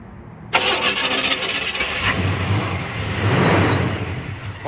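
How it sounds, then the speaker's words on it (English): A 1968 Buick GS 400 engine cranks and catches after a brief silence, then settles into a loud, deep rumbling idle with a slight rise in revs near the end. "Fires right up, sounds nice and healthy."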